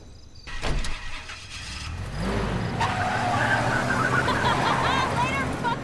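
A car in the video game Life is Strange starts up, its engine catching and revving before it pulls away and keeps driving with a steady, close motor drone mixed with other game sounds.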